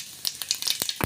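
Cumin seeds frying in hot oil as the start of a garlic and fenugreek greens dish: a brief crackling sizzle with quick pops and spatters, close and alone.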